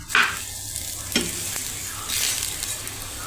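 A bottle gourd thepla fries on a griddle over a medium flame, giving a continuous hiss with a few brief scraping knocks from a spatula turning and pressing the flatbread.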